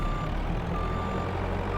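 Steady electronic reversing beeps from a tractor backing up in a farming game set on Celtic grasslands, repeating evenly over a constant low engine rumble.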